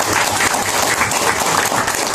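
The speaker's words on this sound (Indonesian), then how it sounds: "Tepuk tangan dulu." Audience at an Islamic boarding school gathering in Indonesia applauds a regional coordinator from Depok, a steady, dense wash of clapping that fills the whole moment without any speech over it.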